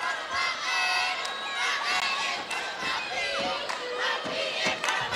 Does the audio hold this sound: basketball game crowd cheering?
yes